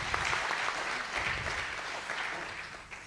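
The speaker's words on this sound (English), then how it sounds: "Please give her a very good clap as she comes up." Continuous clapping from a conference audience at a Kenyan affordable housing event greets a panelist coming up, a dense, even wash of applause, moderately loud with no pauses.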